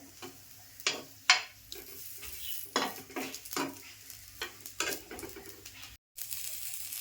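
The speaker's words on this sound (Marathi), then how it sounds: "आणि टोमॅटोची पण सालं निघेपर्यंत टोमॅटो पण भाजून घेणार आहे" Garlic, green chilies and tomatoes roasting in a pan on a home stove, with a soft continuous sizzle broken by repeated sharp scraping and clinking as a utensil turns them against the pan.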